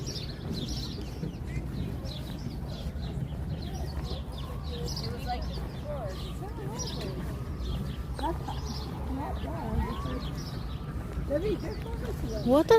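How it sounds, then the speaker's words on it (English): Birds chirp and warble intermittently close by in bushes in Central Park, New York City, amid steady background noise, with short repeated calls growing busier toward the end. "this bushes has a lot of birds"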